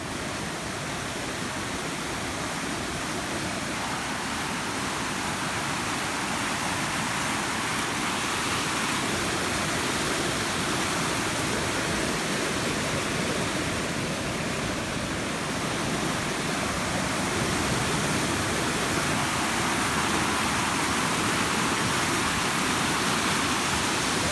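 A powerful, unbroken roar of a flooded river rushing through the Loxley Valley, loud and steady throughout with no voices.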